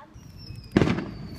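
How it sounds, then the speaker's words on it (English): A Mega Mojo firework goes off as the grand finale of a Fourth of July backyard display, one sharp crackling burst that rises suddenly at mid-distance and fades quickly. "for the grand finale, it's called the Mega Mojo"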